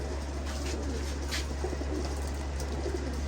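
Soft pigeon coos repeat over a steady low hum and faint background rustle, with no talking, as pigeons are handled for vaccination.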